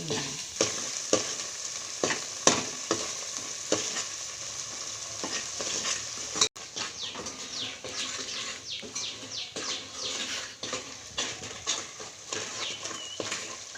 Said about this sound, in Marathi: हे करून घ्यायचं तेलात तळून घ्यायचं परतून घ्यायचं